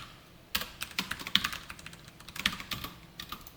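Quick clattering keystrokes on a computer keyboard, a run of close, fairly quiet taps in an uneven rhythm after a brief silent start, with no voice.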